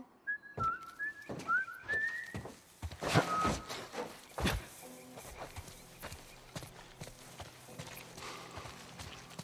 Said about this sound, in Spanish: Estoy silbando.